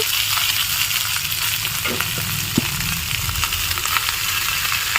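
Fried rice with vegetables sizzling in a hot wok, a steady dense frying hiss with scraping and clinking of a spatula stirring through it, close and continuous with no talking.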